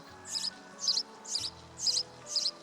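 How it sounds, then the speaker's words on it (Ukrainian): A house sparrow gives five short, bright chirping bursts at a steady pace, each about half a second apart, clear and fairly close with no talking. "Так, горобчик."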